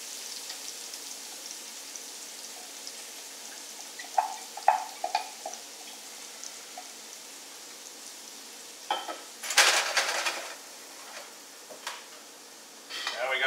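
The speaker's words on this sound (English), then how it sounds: "We're going to get our onions going in there." Onions frying in a pan, a soft steady sizzle with a few louder crackles and clatters from stirring.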